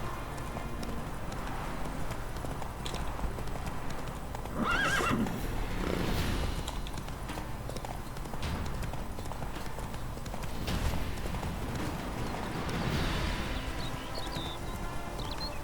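Horse hooves clip-clopping at a gallop in The Witcher 3 video game, a continuous rapid beat of hoofbeats with a neigh around the middle, over ambient game background and no speech.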